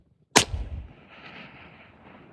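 A single long-range rifle shot fired at a 1000-yard target in a headwind, using a 7-35x scope: one sharp, loud crack followed by a low rumbling echo that slowly fades over two seconds.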